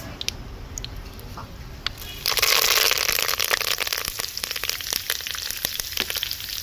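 Mustard seeds and fenugreek hit hot oil for a village-style fish curry: a few sharp pops, then a loud steady sizzle with crackling and spitting that carries on close by.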